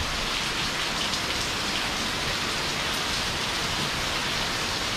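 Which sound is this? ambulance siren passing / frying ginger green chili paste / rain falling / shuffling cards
rain falling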